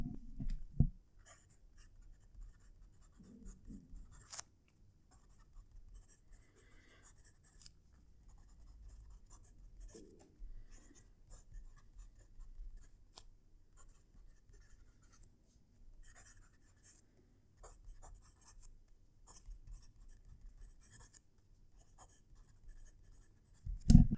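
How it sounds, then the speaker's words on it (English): Close, quiet scratching of a fountain pen nib gliding over paper, in short irregular strokes with brief pauses, soft and intimate. "I'm now going to move the mic closer to the paper so you can hear the pen write."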